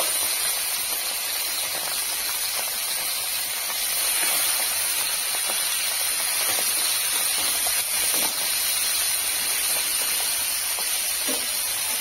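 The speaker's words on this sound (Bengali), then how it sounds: "তেলটা দেখুন ভালোভাবে গরম হয়ে গেছে। এখন আমি মাছগুলি ভেজে নেব।" Fish frying in hot oil in a kadai, a steady loud hiss and crackle of sizzling that runs without pause.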